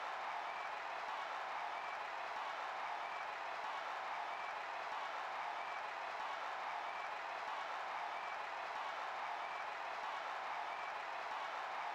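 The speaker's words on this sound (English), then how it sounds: "So the crowd is going crazy." A large crowd roars and applauds at a game tournament, a dense, continuous wash of cheering and clapping that holds steady throughout at a distance, with no single voice standing out.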